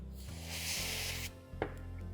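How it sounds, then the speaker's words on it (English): A can of cold spray hisses onto a chocolate flower cake topper, a loud, close burst lasting about a second, followed by a sharp tap and faint handling sounds over a low steady hum. "And then cold spray."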